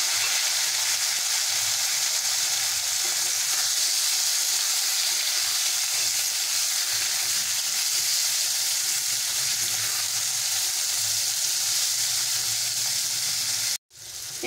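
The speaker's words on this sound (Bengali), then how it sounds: "এঁচোড়টাকে ভেজে নেব।" Jackfruit pieces fry in hot oil left over from frying potatoes, a steady, loud, dense sizzle that runs unbroken for about fourteen seconds, then cuts out abruptly near the end.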